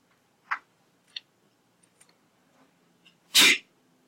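A single loud, close sneeze bursts out in an otherwise quiet classroom during a precalculus lesson, preceded by a few faint ticks and small noises.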